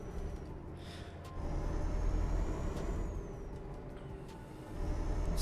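An in-game truck engine in Euro Truck Simulator 2 rumbles low and fairly faint, with a brief hiss of air brakes over the steady drone.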